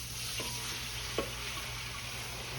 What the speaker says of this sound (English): We're gonna pour the water in here, y'all.